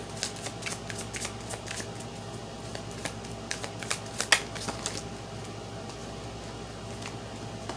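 Tarot cards shuffled and drawn by hand, a soft continuous riffle broken by quick, crisp card snaps and flicks, close and fairly quiet with no talking.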